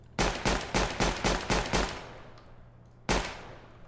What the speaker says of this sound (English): You can shoot through the vent without breaking it.